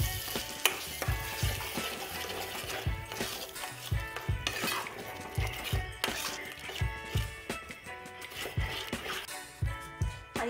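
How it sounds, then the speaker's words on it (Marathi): Besan batter going into a pan on the stove and being stirred and mixed, with repeated scraping and clinking of a utensil against the metal and a busy, close-up rhythm of kitchen handling throughout. "इथे आपलं बॅटर टाकणं चालू झालेलं आहे"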